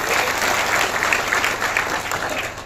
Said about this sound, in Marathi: टाळ्या वाजून त्या दिंडी वालांच्या